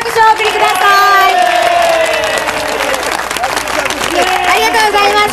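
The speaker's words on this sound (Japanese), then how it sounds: "もう一度高橋さんに大きな拍手をお送りください" A crowd at an outdoor summer lakeside jogging concert by Lake Biwa applauds and cheers loudly and continuously, with shouts and voices mixed into the clapping throughout.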